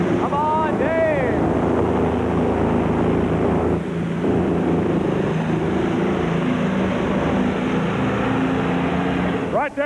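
A twin-turbocharged tractor engine roars at full power during a 1986 National Farm Machinery Show tractor pull, a loud sustained drone that fills the whole stretch while an announcer talks over it.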